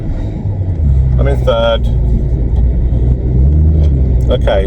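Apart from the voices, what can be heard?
VW Vento car engine running while shifting gears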